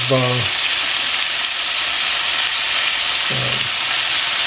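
Balsamic vinegar hitting a hot pan with caramelizing food, giving a loud continuous sizzle and hiss that runs throughout, with two brief tonal beeps, one at the start and another near the end.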